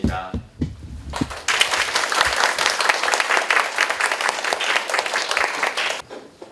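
Warm applause from a church congregation welcoming speakers to a class, a few scattered claps quickly building into sustained dense clapping that holds steady for several seconds before cutting off.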